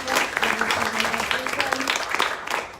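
An audience in a university library event hall claps in sustained applause, a dense spread of hand claps lasting a few seconds with some voices mixed in.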